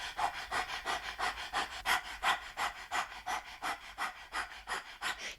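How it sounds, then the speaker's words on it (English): Breath of fire in a kundalini yoga practice: rapid, rhythmic panting breaths across the tongue, about three per second, steady and close, with no talking. "of fire, a panting breath across the tongue"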